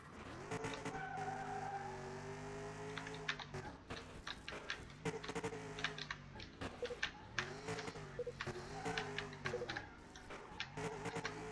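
A V8 car in Car Mechanic Simulator drives hard on a test track, its engine revving up and down repeatedly with rising and falling pitch, tires squealing through corners, loud and continuous with no talk.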